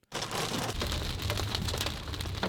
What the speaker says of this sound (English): Yeah, I got a little bit more hard snow. Hard snow? Oh, yeah, hail.